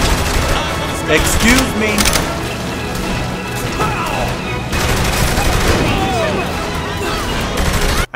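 Grenades going off amid gunfire and chaotic action in Saints Row The Third Remastered, a dense, loud barrage of booms and shots running throughout, with brief speech.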